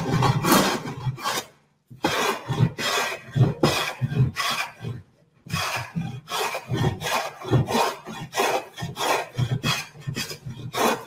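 A scrub plane works diagonally across a wooden board, producing a fast series of loud, rough rasping strokes in an irregular rhythm, with two short pauses between bursts of planing.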